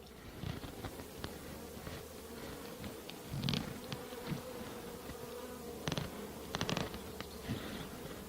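Honey bees buzzing around an opened hive while a five-frame nuc is transferred into a new hive, a constant close drone with louder passes of individual bees, no talk.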